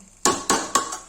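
Three sharp metallic clanks in quick succession, close and loud, as a lid is set onto a cooking pot of mutton masala gravy.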